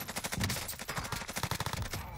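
Rapid automatic gunfire in Call of Duty Warzone (Cold War) rattles out in a loud, close burst of many quick shots, continuing almost without pause before cutting off.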